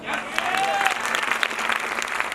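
Lively applause fills a hall at a company anniversary seminar in Karnal, dense and continuous with sharper individual claps standing out, while faint voices and a thin tone sit underneath.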